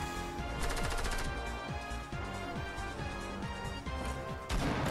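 A grenade blowing something up in Fortnite, heard as loud crashing, smashing impacts repeated over a dense, busy game soundscape, with sharp bursts spread throughout.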